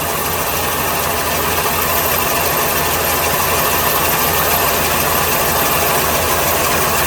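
A 1981 GM Dual Jet carbureted engine idles steadily up close as the idle mixture screw is turned in, a continuous mechanical hum with a slight rhythmic knock and no voices.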